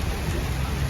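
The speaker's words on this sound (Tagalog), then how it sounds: "narinig niyo po ang lagutok ng" Heavy rain pouring steadily in a broad, dense wash of noise, close and unbroken for under a second with no other sounds.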